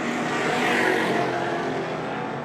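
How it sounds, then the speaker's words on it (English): The Simonized Camaro and other racing cars roar around a race track in a loud, sustained engine drone that swells slightly as the cars pass close. "So Ollie Bryant now in the Simonized Camaro."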